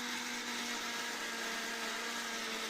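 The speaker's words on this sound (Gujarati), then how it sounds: "બધું મિક્સ કરી અને મિક્સરમાં ગ્રાઇન્ડ કરી દેશું" A kitchen mixer grinder whirs continuously while grinding coconut chutney with peanuts and chilli, a steady high-pitched motor drone throughout with no voices.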